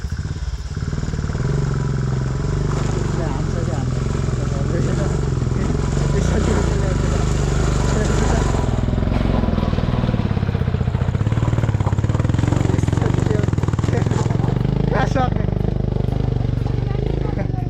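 A motorcycle rides a rough, badly broken road, its steady mid-pitched engine drone running throughout with rattling clatter from the bumpy surface, while voices talk over it.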